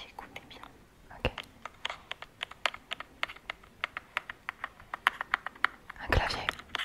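Fingertips tap and click rapidly on the buttons of a remote control, close and crisp, in quick uneven bursts with a brief rustle near the end.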